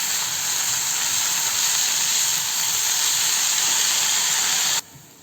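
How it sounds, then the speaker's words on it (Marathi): Spinach stir-fried in a pan over a high flame with garlic fried until red, giving a steady, loud broadband hiss and sizzle that holds evenly and cuts off abruptly near the end. "फास्ट गॅसवर मी पालक परतून घेते"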